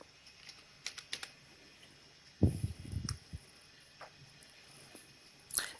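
Password being typed on a computer keyboard: sparse, soft key clicks spread through a quiet room, with a denser burst of taps midway and a faint cluster near the end.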